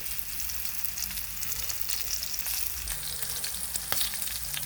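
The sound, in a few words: sayote (chayote) fries frying in oil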